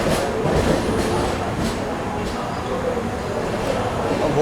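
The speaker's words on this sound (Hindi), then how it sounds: "चलिए, ये निकल गई सिकंदराबाद राजधानी।" A Secunderabad Rajdhani express train rushes past at speed, a loud continuous roar of wheels and carriages with faint rhythmic clacking over the rails, steady and close throughout.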